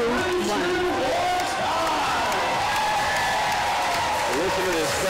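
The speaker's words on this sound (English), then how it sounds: "Listen to this crowd letting these guys know how much they appreciate their effort here tonight." Crowd at a live functional fitness duel cheering and applauding steadily through the clip, a dense roar with whoops over the top, as an announcer talks above it.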